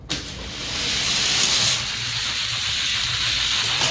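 Die-cast Hot Wheels toy cars, including a '69 Mustang Racing Edition, rolling down a long quarter-mile track in a finals race, a continuous close whirring hiss that swells after a sharp start and then holds steady.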